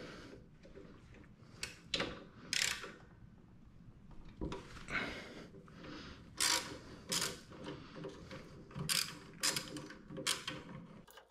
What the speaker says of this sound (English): I've got the 5/16 Allen or hex. Just gonna break the torque on these